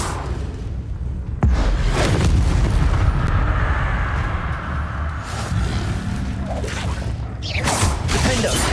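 Confringo spell explosions during combat in the video game Hogwarts Legacy: loud, sustained booming blasts with rumbling, whooshing bursts that overlap almost continuously, with a sharp new impact partway through.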